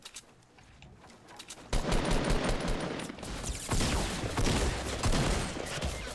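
Gunfire in the Fortnite Battle Royale video game: a brief quiet stretch, then loud, rapid continuous bursts of shots rattling for several seconds with little pause.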